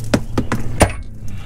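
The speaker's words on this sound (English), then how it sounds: "If they're super rusty like mine, get yourself a handy dandy hammer" A hammer strikes rusty shift box parts on a VW 02J gearbox, giving four sharp, close metallic whacks in quick succession, the last one loudest, followed by a short quiet tail.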